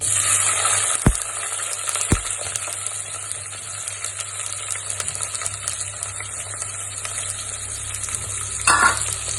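Sliced onion frying in a pan for a Kerala village-style dish, giving a steady broadband sizzle throughout with a few sharp clinks of a spoon against the pan and a brief louder burst of stirring near the end.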